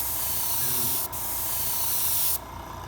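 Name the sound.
airbrush spraying overlapping passes of paint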